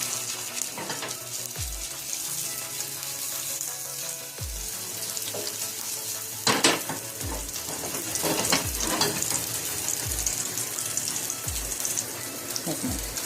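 Chicken vegetable kebabs sizzle in a pan with a soft steady frying hiss, broken by repeated low knocks and scrapes of a utensil at irregular intervals, fairly quiet and without talk.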